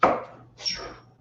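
A knife slices food into strips on a board, giving two quick close cuts, each a short crisp thud with a scraping tail, and no talking.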